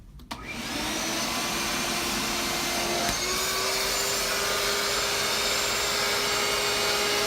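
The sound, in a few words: small wet vac running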